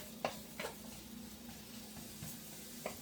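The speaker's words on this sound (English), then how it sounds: "Some people like putting their garlic first. And just saute that" Garlic sautés quietly in a pan for pancit, a soft steady sizzle with a low hum beneath and a few brief clinks of a utensil against the pan.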